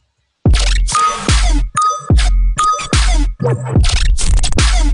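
A full electronic music drop with kick, snare and hi-hat loop, bursting in after a brief silence with heavy booming low end, choppy bright stabs and a dense, loud, continuous mix.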